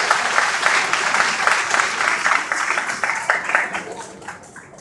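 A congregation at a women's church retreat claps loudly and densely, a full room of hands that stays strong before tapering off slightly at the end.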